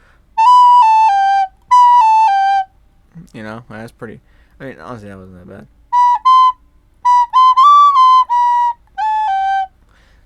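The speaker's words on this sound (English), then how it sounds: "Me playing the nose recorder is a pretty bad one." A nose recorder plays wobbly, breathy whistle-like notes in short phrases, alternating with a person speaking between bursts.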